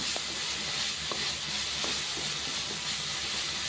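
Ponnanganni greens sauté in a pan with a loud, steady, close sizzle and hiss throughout, broken by occasional soft clicks of stirring.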